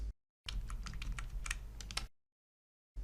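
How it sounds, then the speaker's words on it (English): Keyboard keys clatter in a quick burst of clicks and taps as Control+Arrow shortcuts are pressed in a Microsoft Word document, set between stretches of silence. "I select a term using the Control+Arrow keys"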